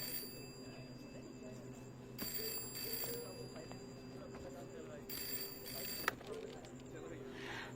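A telephone rings in an office in a movie scene, with repeated bright bursts of ringing separated by pauses, moderately loud over a faint room background.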